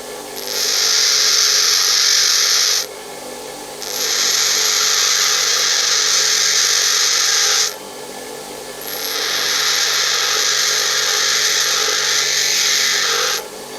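A metal lathe turning and facing tool is ground by hand on a bench grinder, giving a steady, loud hissing grind in three long passes separated by brief pauses, with no talking.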